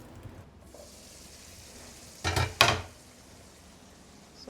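Mushroom peas masala gravy in oil in a pan, a hotel-style dish, with two short loud sizzling bursts close by over a quiet kitchen background.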